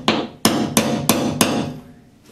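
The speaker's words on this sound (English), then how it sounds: "I just have a center punch, a little lady's hammer here." Five sharp metallic taps of a small hammer on a center punch at a steady, unhurried rhythm, close by, each ringing briefly before the next strike.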